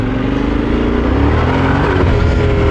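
A Yamaha Tenere 700 adventure motorcycle on rutted off-road ground, its engine loud and close as it pulls hard under throttle, a rising roar with climbing engine tones over a brief stretch.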